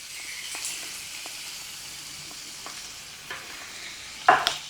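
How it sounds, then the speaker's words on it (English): Canned Rotel tomatoes with their juice go into ground beef frying in a pan, giving a steady sizzle and hiss with light stirring scrapes and a sharper clatter near the end. "Now I'm going to add the tomatoes to it, and this is the Rotel tomatoes."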